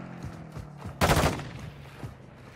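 Gunfire in Call of Duty: Warzone 2.0, a few quiet distant shots followed by one loud close burst of fire that fades over about half a second, with no voices over it.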